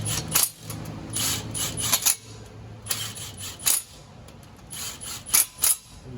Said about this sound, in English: We go around in a star sequence to make sure that it's torquing down nice and flat